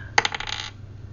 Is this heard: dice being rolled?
yes